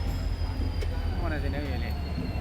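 A train rolls past a railway level crossing with the gate lowered, a steady rumbling roar with faint wheel squeal, close by, while someone speaks briefly over it.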